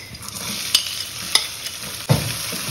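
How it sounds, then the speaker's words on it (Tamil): Garlic hits hot oil with a steady sizzle and crackle, punctuated by a few sharp clinks of a spoon stirring the pan. "இப்போ பொடியாக நறுக்கின பூண்டை போட்டுக்கலாம்"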